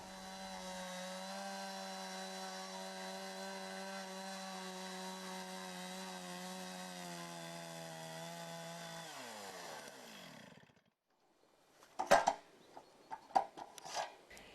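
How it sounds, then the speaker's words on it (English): A chainsaw mill runs at a steady, loud drone for about ten seconds while sawing through a log, then winds down and stops, followed by a few sharp knocks and clatters. "Set the desired board width and start sawing."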